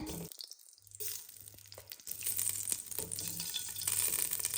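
Ghee heating in a hot pan gives a soft, close frying sizzle that builds and steadies, with a low hum and a few faint clinks underneath and no talking.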